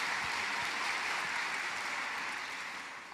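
A congregation claps steadily through a church revival service, the broad, dense applause holding fairly constant from start to finish before easing slightly at the end.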